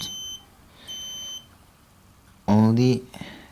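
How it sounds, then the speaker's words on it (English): A car anti-distraction system prototype driven by an Arduino board sounds its buzzer: two short, high electronic beeps a moment apart, followed by a burst of voice. "we have a buzzer sound"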